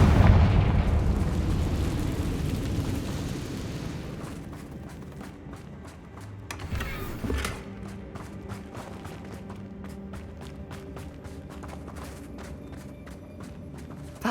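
A Confringo fire spell bursts in Hogwarts Legacy: a loud rumbling blast opens, then a second crackling boom follows, with mechanical game noises and ticks trailing afterward.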